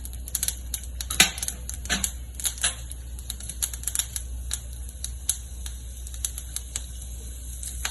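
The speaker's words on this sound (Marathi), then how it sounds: "याच तेलामध्ये मी आता मोहरी घालणार आहे" Mustard seeds splutter in hot oil in a pan as a stream of sharp, irregular crackling pops over a low steady hum. They are close and moderately loud, with no talking.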